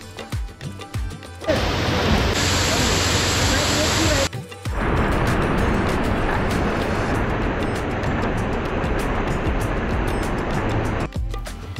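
Foaming waterfall water in Tamhini Ghat roars as a steady, dense wash. A voice talks over it, and abrupt cuts break the sound near the start and end.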